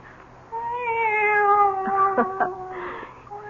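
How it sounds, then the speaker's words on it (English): A cat meowing sound effect in a radio drama: one long, drawn-out, wavering meow that rises and falls over a few seconds, close and prominent over a low background hum. "It's the cat. She's back."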